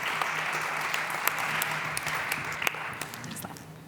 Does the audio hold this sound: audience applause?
yes